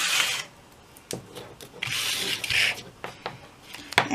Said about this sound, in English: So I'm going to put my two-sided tape along the edges and the bottom here.